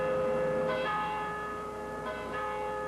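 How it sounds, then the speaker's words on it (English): Church bells toll steadily as many churches ring together in tribute, their deep ringing tones overlapping and sustained, with new strikes arriving every second or so and no voices. "the sound of church bells filled the air as 50 churches tolled in tribute"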